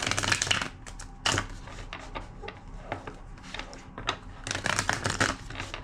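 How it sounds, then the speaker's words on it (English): Several quick riffling bursts of cards being shuffled, close and crisp, separated by short pauses. "Two more shuffles."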